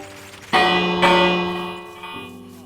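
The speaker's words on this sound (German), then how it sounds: "Ich möchte jetzt aber die Glocke gern daher setzen" A bell rung in the Minecraft video game, with two clear metallic strikes about half a second apart, each leaving a long ringing decay, and a softer third tone near the end.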